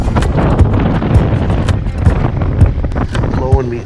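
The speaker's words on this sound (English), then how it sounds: "Oh, it's so windy." Strong wind buffets the microphone aboard a small fishing boat, a constant rough rumble with gusty bursts, while a person talks over it.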